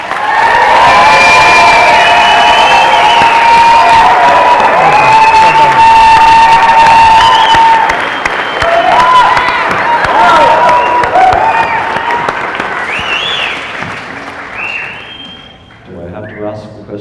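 Wedding ceremony guests cheering loudly, with whoops, shouts and children's high voices over clapping. The crowd noise is sustained and close, then fades near the end.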